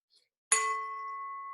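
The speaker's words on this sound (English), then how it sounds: "Ready for the bell, because this is a big one coming up. This is a new bell." A new, louder bell struck once with a bright metallic ding that rings on, sustained and steady, after a brief quiet pause.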